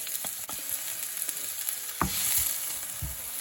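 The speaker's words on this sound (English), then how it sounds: "now I'm going to cook my onion until it is translucent" Onion frying in oil in a pan, cooking until translucent: a continuous close sizzle with occasional stirring knocks and scrapes, steady and fairly quiet, with no talking.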